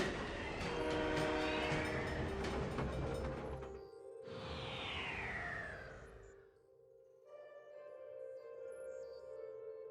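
Trains run in the video game SimCity 3000: a loud rumbling train with blaring horn blasts, a short gap, then a second horn sweep that fades into softer sustained tones and faint clatter.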